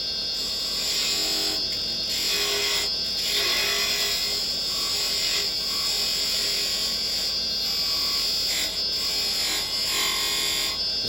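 A carbide chisel cuts into wood spinning on a lathe while a small bird house is turned. The result is a continuous high, hissing scrape with gentle rhythmic swells, fairly close.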